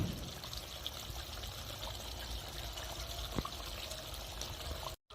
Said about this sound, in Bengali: এখন আমি এর মধ্যে দিয়ে দেবো ফেটিয়ে রাখা টক দই